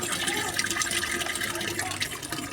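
Water poured steadily into a large pot, about three-quarters full, while mixing homemade plant fertiliser, a continuous close splashing rush that lasts throughout without pause.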